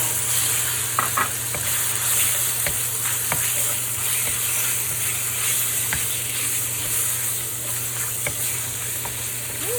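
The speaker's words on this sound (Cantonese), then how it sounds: "放埋啲辣椒落去一齊炒" Beef, okra and chillies stir-fry in a hot wok, a loud steady sizzle broken by repeated light clinks and scrapes of the spatula.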